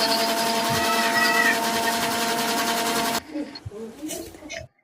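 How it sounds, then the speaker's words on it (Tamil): A mixer grinder blends tender coconut water with palm fruit (nungu) for juice, a loud steady motor whine with harmonic hum running for about three seconds before cutting off, followed by faint handling clatter. "இப்போ நம்ம மிக்சர் அடிச்சுக்கலாம்."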